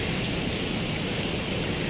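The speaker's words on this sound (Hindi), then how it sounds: "इस टाइम पीसी होटल में अभी बारिश हो रही है।" Steady rain pours down at a swimming pool of a Pearl Continental hotel in Lahore, a dense, even hiss of falling water that continues unbroken throughout, with no voices.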